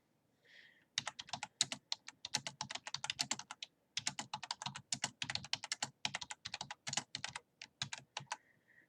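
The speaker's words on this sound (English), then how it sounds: "So I just typed the comment." Rapid, uneven keystrokes on a computer keyboard as a comment is typed, a close, steady burst of clicks with one short pause midway and no talking.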